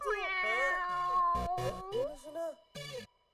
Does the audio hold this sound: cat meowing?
yes